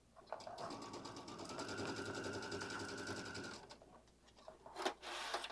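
A home sewing machine stitches fabric strips around cording for a tote bag, running steadily for several seconds with a close, whirring mechanical rhythm, then briefly stopping before resuming.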